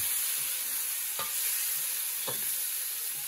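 Coriander powder, turmeric, chilli powder and salt being stirred in a hot pan for a soya chunk curry, a steady soft sizzle with two distinct scrapes of a spatula against the pan, close and without speech.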